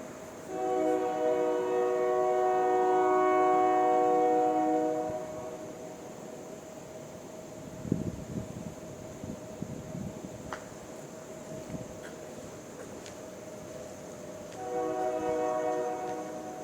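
A Union Pacific Railroad train sounds its horn in long, loud, sustained blasts, first for about five seconds and again near the end, with rumbling rail noise and clanks in between and no talking.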